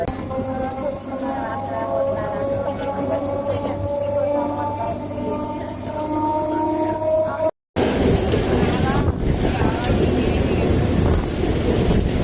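Salem to Mayiladuthurai MEMU passenger train running, heard as a continuous loud rumble and wind rush with faint tonal whine, a brief dropout midway, then a rougher, louder roar.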